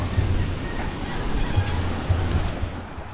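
Ocean surf rolling in along a shore, a steady roar of water with gusts of wind hitting the microphone, moderately loud and continuous.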